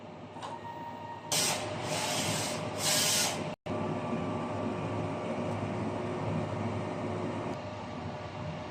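A DTF printer runs a print head cleaning cycle: a steady mechanical hum carries throughout, broken by two bursts of loud spraying hiss early on and a brief cutout, with no talking.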